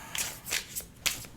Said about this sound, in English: So I'll shuffle a little bit better.